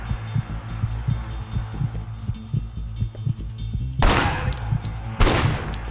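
Gunfire in the video game Sleeping Dogs: a rhythmic series of thudding shots, followed by two louder, sharper bursts of fire, with no talk.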